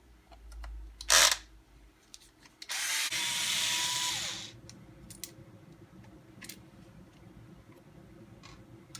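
A power driver backs screws out of a Traxxas RC 4x4 truck. A short, sharp burst comes first, then a whirring run of about a second and a half that winds down. Scattered faint ticks and clicks follow in a quiet room.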